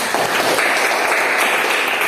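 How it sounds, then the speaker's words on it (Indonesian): Students in a fifth-grade science class clap together, a short, loud, close burst of rapid hand claps lasting about two seconds. "Betul, tepuk tangan"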